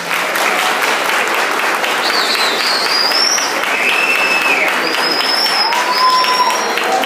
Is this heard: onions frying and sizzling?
no